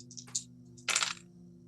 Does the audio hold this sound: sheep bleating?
no